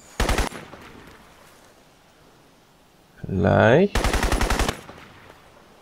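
Two loud bursts of automatic gunfire from the video game Crysis, a short rapid volley followed later by a longer rattling one, with a voice speaking briefly in between.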